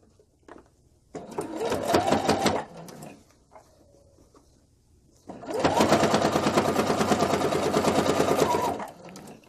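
A sewing machine stitches a fabric pot holder in two loud bursts, one short run and then a longer steady one, with a quiet pause between.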